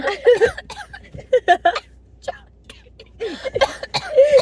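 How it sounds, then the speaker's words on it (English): Several bursts of coughing and throat clearing from a person inside a car, broken by short pauses, with voices talking and chuckling in between. "Cough! Keep coughing!"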